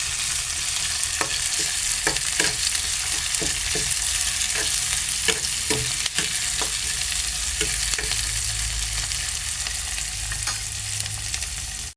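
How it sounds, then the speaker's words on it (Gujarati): Onion and green garlic fry in oil for a Gujarati curd raita, giving a steady, close crackling sizzle across the whole stretch, broken by sharp taps and scrapes of stirring at irregular intervals, with no voices. "પછી આપણે ડુંગળીને લીલું લસણ અને બરાબર તેલમાં કકડાઈ દેવાનું"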